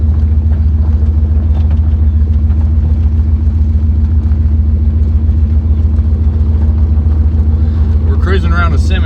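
A Jeep with full-time four-wheel drive cruises slowly through a cemetery while warming up to operating temperature, a steady low engine rumble droning throughout with a voice briefly audible near the end.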